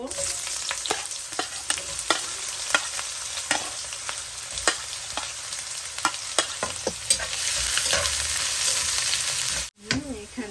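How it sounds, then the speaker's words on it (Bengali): Onions dropped into hot oil with whole cumin seeds, frying with a steady loud sizzle, scraped and stirred at irregular intervals with sharp spatula clicks; the sizzle briefly cuts out near the end. "এখন আমি পেঁয়াজ দিয়ে দিব"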